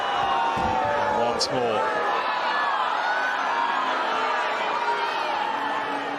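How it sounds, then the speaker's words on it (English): A Wimbledon crowd loudly boos Just Stop Oil protesters who scattered orange confetti and jigsaw puzzle pieces over the court. The dense, sustained roar of many voices continues throughout, with someone speaking briefly over it. "did you hear what I heard, which is loud, relentless booing"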